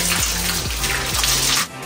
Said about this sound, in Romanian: după utilizare, spălăm filtrul